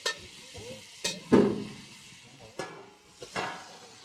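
Sausage fries in a pan at a family campsite, a steady close sizzle broken by a few sharp clinks and scrapes of a utensil stirring against the pan.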